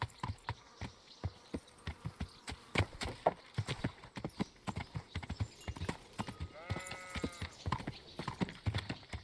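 Horse hooves clip-clop steadily in the Kingdom Come: Deliverance game as the horse is ridden, a brisk regular beat running the whole way, with a brief whinny-like tonal call partway through.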